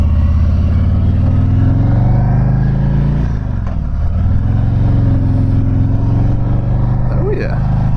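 A 2019 Harley-Davidson Road King motorcycle rumbles steadily at close range, its deep engine note dipping briefly between gears before pulling again under steady wind noise.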